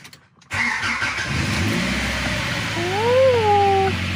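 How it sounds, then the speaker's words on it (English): Car engine cranking and catching after a coolant flush with the radiator cap off, then settling into a steady idle to warm up, loud and close, with a rising whine over the rumble. "we're gonna go ahead and start the car and let it warm up"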